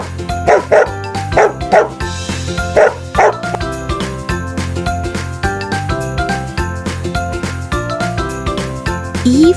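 A dog barks in a run of short, punchy woofs and yips near the start, then fades under a cheerful children's song with jingling percussion.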